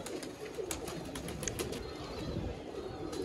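A pigeon cooing on a rooftop, a steady low murmuring coo under a constant hiss of outdoor background noise, moderately close and unbroken throughout.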